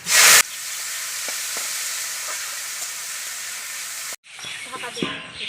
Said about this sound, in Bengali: তেল গরম হয়ে গেছে এবার আলুটা দিয়ে দিচ্ছি